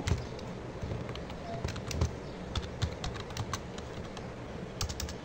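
Steady clicking of a computer keyboard while typing a name into a PowerPoint slide, the close key taps coming in quick irregular bursts over a faint background hiss.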